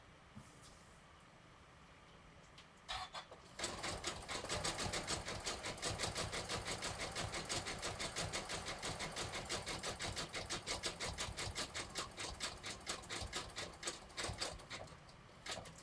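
A sewing machine stitches embroidery on a rope handbag, starting after a quiet moment and then running in a fast, steady, close mechanical rattle of needle strokes until the end.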